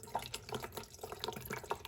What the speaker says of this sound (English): you open up the tank like that, and you add your water like so